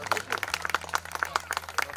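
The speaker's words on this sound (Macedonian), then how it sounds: "Ве молам уште еден аплауз" Scattered clapping from spectators at a Macedonian Karaman shepherd dog show, a fairly sparse and uneven patter of hands heard at a moderate distance, with a low steady hum running underneath.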